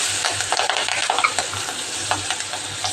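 Green chillies, ground coriander-cumin and turmeric spluttering in hot oil, a continuous close sizzle with busy crackling and stirring clicks, no voices.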